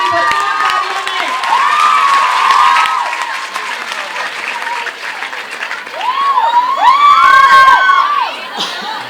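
Lively applause, cheering and whoops from an audience at an Urdu poetry mushaira at a girls' college in Faisalabad, greeting poet Farhat Abbas Shah. The noise swells and rises again near the end, with shouts over the clapping.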